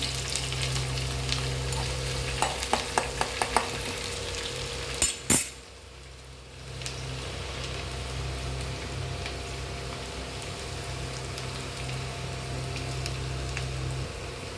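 Shallots sizzle and fry in coconut oil in a pan with rice, garlic and dried chili for a Kerala thoran, with a steady frying hiss, a few sharp clinks of a spoon being stirred, then a brief pause before the sizzle resumes.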